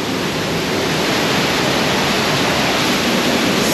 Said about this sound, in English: Can you hear the water getting louder? The rush of the water.